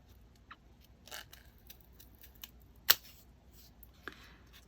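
Scissors snipping paper while a Christmas ornament is made, with a few short, crisp cuts spaced apart against a quiet room, one sharper snip standing out.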